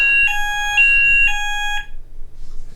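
An addressable fire alarm system, triggered by a manual call point, sounds loudly in two bursts of a steady, multi-tone electronic beep, then cuts off, leaving quiet room noise.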